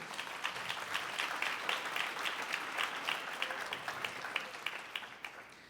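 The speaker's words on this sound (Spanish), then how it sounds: "Dale un aplauso a Dios con todo tu corazón." A church congregation applauds at a Sunday service, a steady wash of many hands clapping at moderate volume, slightly distant and reverberant, thinning out near the end.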